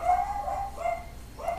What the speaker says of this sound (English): So I apologize for the dogs.